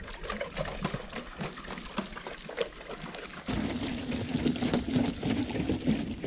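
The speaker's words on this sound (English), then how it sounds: "After I pour water on the top layer" Water poured from a bucket onto the dusty dirt top layer of a trail feature landing, a faint splashing trickle that swells into a steadier, fuller pour partway through, with no talking.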